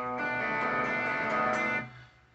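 A few picked guitar notes ring together into a sustained chord, then fade quickly to near silence.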